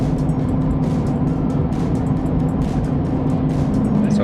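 A car driving on a New Mexico road toward Texas, giving a continuous, steady engine and road rumble from inside the vehicle with a faint tone of wind noise.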